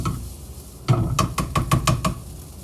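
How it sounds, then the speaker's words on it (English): A metal spatula scrapes repeatedly across a hot skillet holding steak for garlic fried rice, a string of quick, close scraping strokes in a steady rhythm after a short pause. "I like to use this spatula to run across the skillet to pick up all of the nice char flavor"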